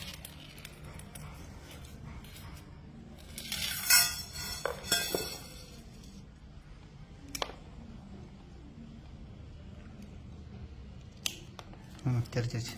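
Cutters snipping open a gold chain, a few sharp metallic snips and clinks near the start, then scattered small clicks beneath ongoing talk.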